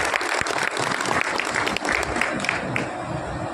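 A crowd at a BJP drivers' convention in Delhi gives a welcoming round of applause for a union official, with fairly close, brisk clapping and distinct individual claps that fade slightly toward the end.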